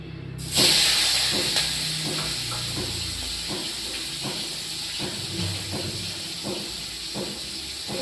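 Prawns hit hot oil with a sudden loud hiss that settles into a steady, close sizzle, with regular soft knocks of stirring running through it. No voices.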